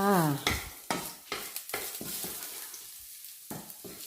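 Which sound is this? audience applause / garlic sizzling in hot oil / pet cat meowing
garlic sizzling in hot oil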